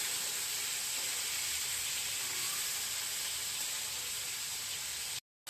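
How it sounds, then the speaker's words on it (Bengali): Bombay duck (lote) fish fries lightly in hot oil, giving a steady, even sizzling hiss that holds unbroken at moderate loudness, then cuts off abruptly at the end. "এই মাছটা সেরকম কড়া ভাজা হবে না, লোটে মাছ খুব নরম, অল্প ভাজতে হবে"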